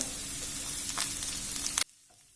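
Two large sliced onions hit the hot pan for a Kerala-style nadan chicken roast, giving a loud, steady close-up sizzle that cuts off abruptly near the end, leaving near silence.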